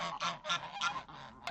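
Several geese honk in quick, overlapping bursts, close and clear, with no talking over the calls.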